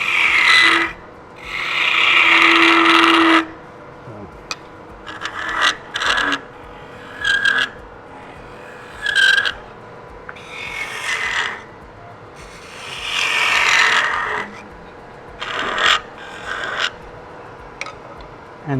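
Wood turning on a lathe as a skew chisel cuts the spinning workpiece gives bursts of scraping, rasping noise separated by short pauses.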